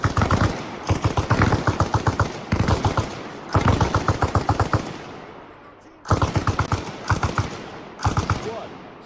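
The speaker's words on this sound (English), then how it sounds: "Have your boy lay down suppressive fire." Machine gun suppressive fire in Arma Reforger, rapid bursts of loud automatic shots repeating in close succession with short pauses between strings, steady and near.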